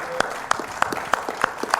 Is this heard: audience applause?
yes